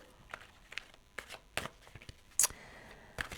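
Tarot cards riffled and shuffled in a few short crisp bursts of papery snapping and rustling, close by, with brief pauses between.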